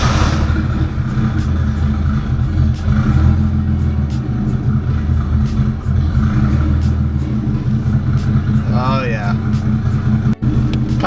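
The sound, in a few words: Nissan 240SX engine idling after cold start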